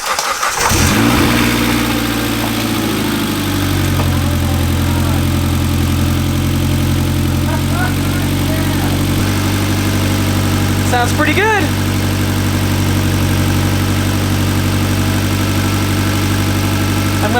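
A Mitsubishi Evo X engine cranks and fires on its first start after a timing chain install, then settles into a steady, loud idle that holds throughout, with a voice speaking briefly over it.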